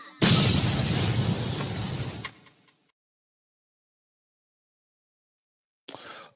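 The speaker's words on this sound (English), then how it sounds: "I said drop a bomb" A bomb explosion sound effect bursts in loud and close, a broad roaring blast that holds for about two seconds, then cuts off into silence before a brief faint thud near the end.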